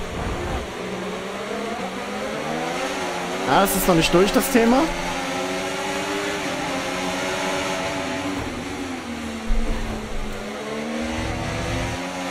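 Formula 1 race cars in the game F1 24 hold a steady engine whine that rises and falls with gear changes, while someone talks over it in short bursts.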